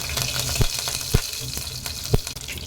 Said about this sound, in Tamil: எண்ணெய் சூடானதும் கொஞ்சமாக கடுகு போட்டு தாளிச்சிக்கலாம்